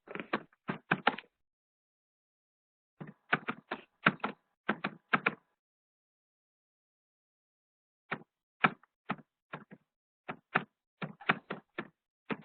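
Keyboard typing in short bursts of sharp clicks separated by pauses, close and clear against a silent background, with no talking.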